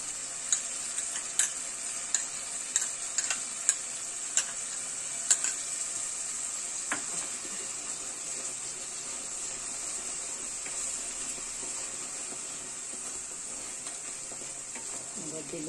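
Spoon clatters several times in the first six seconds, then a steady sizzle of katla fish curry frying in a pan continues alone, with a faint bright hiss throughout.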